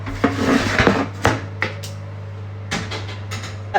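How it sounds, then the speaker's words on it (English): A metal baking tray of brandy snaps slid into a home oven, with clattering knocks, a wooden thud and door clunks over a steady low hum, close and without speech. "That goes in the oven now for 7 to 8 minutes."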